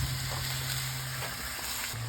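A whole chicken sautés with aromatics in a hot pan, giving a continuous close sizzle with a low steady hum underneath.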